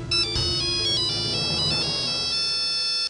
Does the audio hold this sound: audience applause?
no